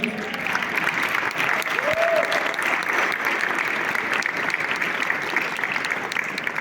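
A church congregation applauds loudly and steadily, dense clapping continuing throughout with a voice briefly rising above it.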